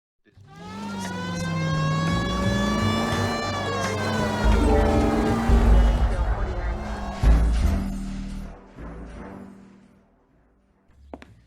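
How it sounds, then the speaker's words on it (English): Police car siren in the crime game L.A. Noire wails with a rising and falling tone for several seconds, with engine rumble and voices talking over it before it fades. "Why are you putting the siren on?"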